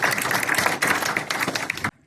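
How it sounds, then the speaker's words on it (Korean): An audience at a Korean film screening gives director Park Il a burst of dense, crackling applause, many hands clapping at once for about two seconds before it stops abruptly. "그럼 감독님 한번 다시 한번 박수 한번"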